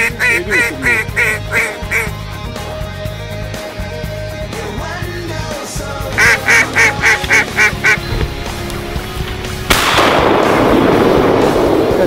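During a duck hunt, loud shotgun blasts crack out close among bursts of quacking from ducks nearby, with a rushing noise swelling near the end.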